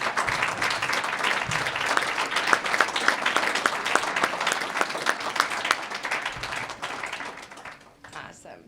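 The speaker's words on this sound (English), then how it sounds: "let's give them a round of applause" Audience at a university hall of fame induction ceremony applauds student athletes, with dense, steady clapping filling the hall for about eight seconds before tapering off, and some voices mixed in under it.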